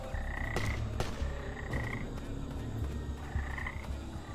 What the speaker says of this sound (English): Are those frogs or something?